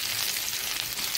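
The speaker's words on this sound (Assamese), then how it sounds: "মাছখিনি ৰঙচুৱা হৈ গৈছে, অলপ কৰকৰীয়াকৈ ভাজিছোঁ" Fish fries crisply with ginger in a pan, giving a continuous close hiss and crackle of hot oil with no voices.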